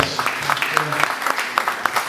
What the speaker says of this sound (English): Give Ellen a round of applause.